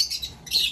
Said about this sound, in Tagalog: Merong ibon dito sa labas.